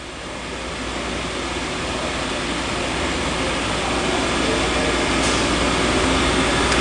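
A spin rinse dryer, an 870-S unit with SlickDevice S1 controllers and custom rotors, whirs in a steady, loud broadband rush during its dry cycle, holding an even mechanical drone throughout.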